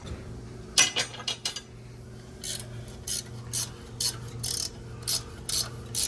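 Turbo bolts being worked loose on a truck engine in a repair shop: a series of short metallic ratcheting and clicking bursts, fairly close, separated by pauses over a low steady hum.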